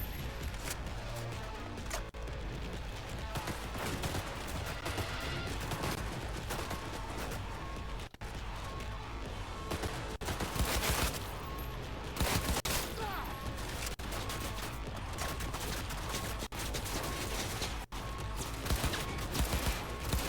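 Sustained gunfire in the shooter Cyberpunk 2077, a near-continuous loud fusillade of rapid shots with periodic heavier bursts, dense and close throughout about twenty seconds of combat noise.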